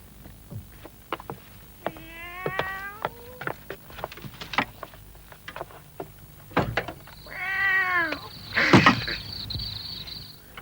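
A male cat yowls in two drawn-out, wavering meows separated by a pause, over quiet background rustling and a few sharp clicks.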